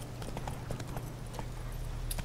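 Horse hooves clip-clopping in The Witcher 3, a steady rhythmic series of soft hoof beats over a low ambient hum, fairly close and moderately quiet.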